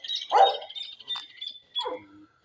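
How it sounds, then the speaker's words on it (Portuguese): A small dog gives a few short, high yips and barks, close and clear against a quiet background. "Olha o cachorrinho ali."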